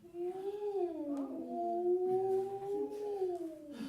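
A human voice imitates a whale mating call, drawing out long, wavering moans that slide slowly up and down in pitch for about four seconds, close and alone.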